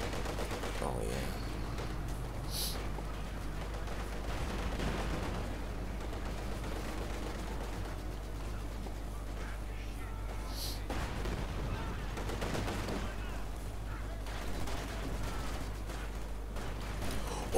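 Vickers machine gun fire in a Company of Heroes 2 4v4 battle, a dense stream of rapid bursts mixed with distant artillery and explosions, with voices talking over the steady battlefield din.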